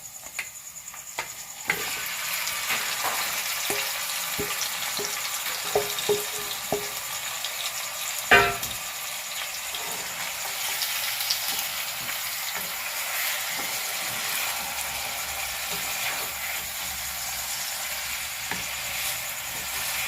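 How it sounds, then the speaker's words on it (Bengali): Chicken pieces sizzle and fry in a pan among browned onions, a steady close crackle with occasional stirring clatters and one sharp knock, no voices. "এরপর আমরা এই পেঁয়াজের মধ্যে চিকেনটাকে দিয়ে দেব, পুরো চিকেনটা।"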